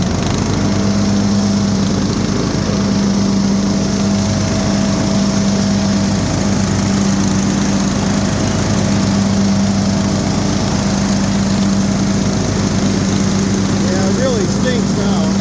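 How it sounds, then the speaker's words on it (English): A smoking lawn mower with a suspected blown head gasket runs loudly and continuously up close while mowing and bagging grass, its engine drone steady for the whole stretch with no speech. "Let's mow a little section here. I'm bagging."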